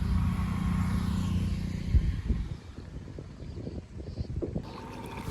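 A small, leaking wooden boat moves across water lily-covered water with a low, rumbling wash and gentle sloshing close by, and faint rustles and knocks follow toward the end.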